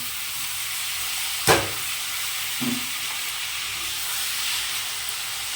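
Boiled taro leaves drop into a pan of spice paste already frying in oil. A soft thump is followed by steady sizzling and a brief second stir sound, all close by, with no talking.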